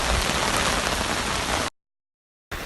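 Heavy rain pours during the 2018 South Texas flood, a dense, close hiss of drops on surfaces that cuts to silence and then resumes.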